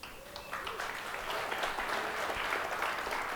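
A conference audience gives a steady round of applause, the clapping building slightly and holding at a moderate, somewhat distant level.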